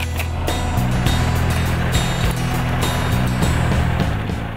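Posch HydroCombi 20 hydraulic log splitter lowering its splitting wedge under two-hand control, a steady loud low engine-and-hydraulic drone with slight pitch shifts throughout.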